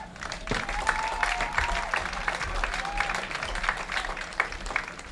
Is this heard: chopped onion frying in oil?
no